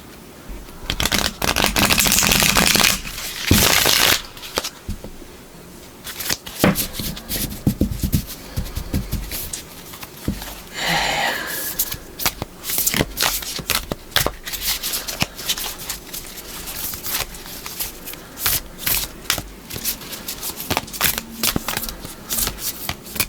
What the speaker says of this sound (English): Let's go ahead and try shuffling.